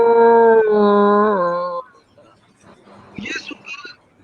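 A voice imitates a dog's howl, one long drawn-out wavering note that fades out, followed by a few faint short yelping sounds.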